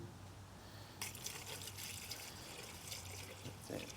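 Mineral spirits pour into a bucket used for cleaning trailer wheel bearings, a soft, quiet trickle and splash that begins a second in and carries on faintly with small spatters.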